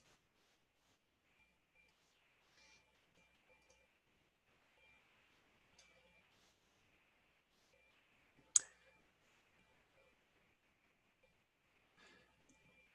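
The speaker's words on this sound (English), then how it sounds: "if you click on the library palette" Sparse, quiet computer mouse clicks while working in Illustrator, scattered single taps with one sharper click standing out, otherwise near silence.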